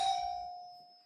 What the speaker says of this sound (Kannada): ಇಷ್ಟೊತ್ತಿಗೆ ಯಾರಪ್ಪ ಬೆಲ್ ಮಾಡ್ತಿರೋದು?